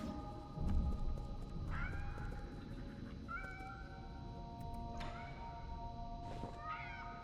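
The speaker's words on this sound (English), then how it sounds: "Those are just ordinary cats." Ordinary cats in the game Nine Sols meow several times at spaced intervals, each call rising and falling, clear over a soft, steady ambient backdrop.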